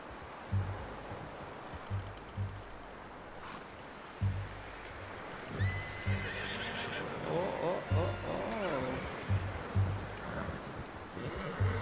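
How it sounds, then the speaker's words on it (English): Horse in the Red Dead Redemption 2 video game, with neighing and snorting amid hoof thuds and ambient game sound, under intermittent talk. "You should really tether that horse, Arthur."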